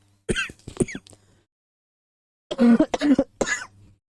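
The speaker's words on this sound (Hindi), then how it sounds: "थोड़ा खांसी आ रही है" A person coughs and clears their throat close by, two rough bursts separated by a short silence.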